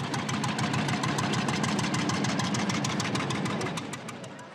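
A pop-up tractor engine idles with a fast, even popping beat, loud and close, the rhythmic pulses steady throughout and easing slightly at the end.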